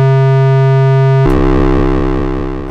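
A Moog synthesizer with a sine wave fed into its linear FM input: a pure, steady tone holds alone for about a second, then abruptly turns into a loud, buzzy, metallic frequency-modulated tone with a rhythmic pulsing throb.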